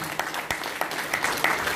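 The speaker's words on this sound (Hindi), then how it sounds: "उनके लिए जोरदार तालियां।" A crowd at a business meeting gives brief applause, a fairly faint, continuous patter of many hands lasting under two seconds with a few sharper claps standing out.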